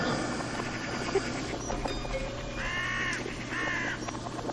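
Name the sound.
bird cawing, likely a magpie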